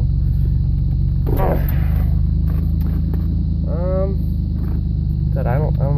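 A 2001 Ford Ranger truck engine idling nearby, a steady low rumble throughout while a person talks over it in short phrases.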